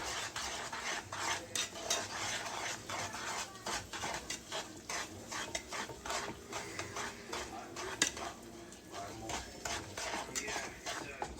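A spoon works through a candied yam mixture in a bowl, producing quiet, rhythmic scraping and squishing strokes that repeat steadily without a break.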